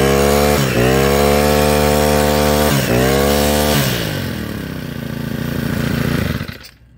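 Honda GX35 four-stroke brush cutter engine runs after a coil repair, a loud steady buzz with two quick throttle dips, then revving lower and cutting off at the end.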